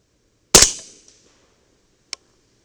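A single close, loud rifle shot from a 300 Blackout with a CMMG 8-inch barrel cracks sharply and rings out briefly, followed a second and a half later by a small metallic click.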